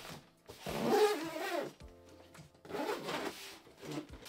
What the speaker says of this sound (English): So of course we can just zip this back up.